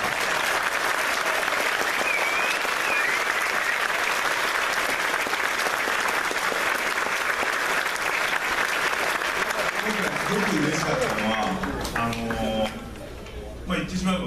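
A crowd applauds at a G-Fest fan convention event, a long steady wash of clapping that fades near the end as voices and other sounds emerge.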